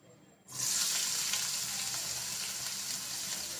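Green chilies hit hot oil in a frying pan with a sudden loud sizzle that keeps up as a steady, close hiss, alongside onions and spicy semolina.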